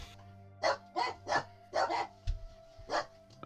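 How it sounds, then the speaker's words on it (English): Several dogs bark in a quick series of about six sharp woofs at moderate distance, spaced roughly a third of a second apart over a low steady hum. "Oh, the doggies."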